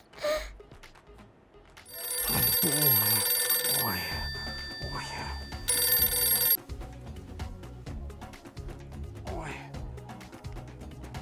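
Cartoon telephone ringing while calling the grandparents: a bright electronic ring sounds in two loud bursts, with a voice and gasping sounds mixed in between and soft talk before and after.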